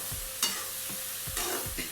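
Onion greens frying with urad dal in a pan give a close, steady sizzle, broken by several scraping strokes as the mix is stirred, with no talking.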